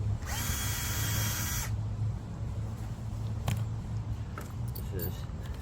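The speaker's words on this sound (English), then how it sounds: "I'm going to drill a hole right here" A power drill bores into a steel ball with a loud, high, whining grind for just over a second, then drops to a quieter rumbling run with scattered metallic clicks and scrapes.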